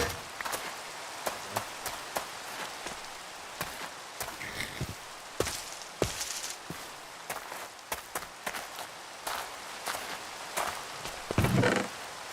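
A rain gun fires in a video game, a dense hiss of spattering droplets broken by sharp clicks and taps, moderately loud and steady throughout, with a brighter burst near the end.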